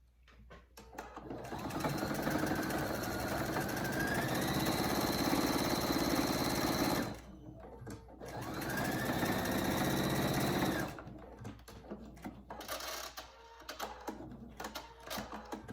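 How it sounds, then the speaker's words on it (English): A sewing machine stitching about a half inch across fabric to enclose the seams of a hanging microbat pouch, running in two steady whirring bursts of several seconds each with a brief pause between, close and fairly loud. "And then you are going to just sew about a half inch across so you can enclose those seams."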